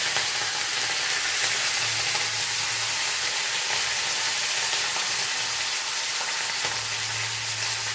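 Curry leaves frying in hot oil for a tempering for potato and eggplant bhorta, giving a steady, close sizzle and crackle that runs unbroken throughout without voices.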